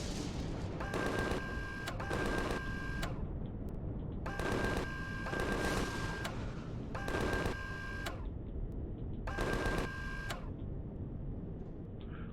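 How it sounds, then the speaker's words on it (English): Automatic gunfire in the video game Empyrion aimed at trees, heard as four rapid rattling bursts of roughly a second each with short gaps between them over a steady game background. "Let's shoot a couple more that we can shoot."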